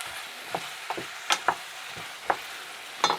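Sliced celery sizzles in a frying pan for a beef goulash, with a steady hiss broken by several sharp scraping stirs of a utensil close by.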